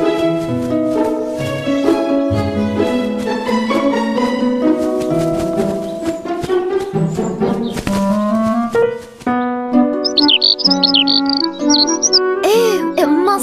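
Little cartoon birds in a children's animated show twitter in quick, high squiggly chirps during the last few seconds, layered over steady bright background music that plays throughout.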